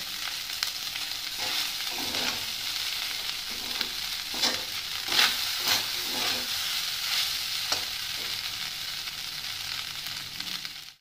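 Leftover rice frying at home in a pan on a gas stove, with a steady sizzle broken by repeated scraping strokes of a spatula as it is stirred, close and fairly loud.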